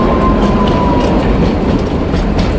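The Kalka–Shimla toy train runs along its mountain railway of many tunnels, a loud, continuous close rumble of wheels with rhythmic clatter and a thin, sustained squeal.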